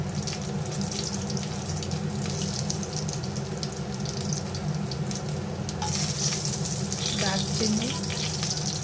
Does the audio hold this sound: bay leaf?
yes